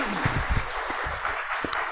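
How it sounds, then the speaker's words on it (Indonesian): Church congregation applauding at a pastor installation service, a steady wash of many hands clapping at close range, filling the brief moment with no voices over it. "Gimana kalau kita beri tepuk tangan buat Om Yonatan yang luar biasa."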